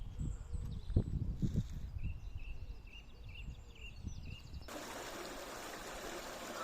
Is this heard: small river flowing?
yes